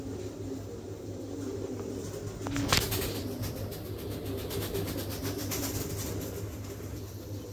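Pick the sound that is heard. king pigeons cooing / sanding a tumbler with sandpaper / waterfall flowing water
king pigeons cooing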